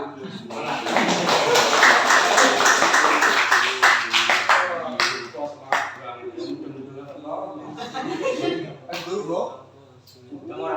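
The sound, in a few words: clapping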